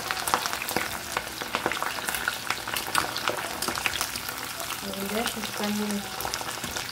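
Corn kernels frying in hot oil for chicharrón de elote give a steady close crackling sizzle with dense sputtering pops throughout, while a voice speaks briefly near the end.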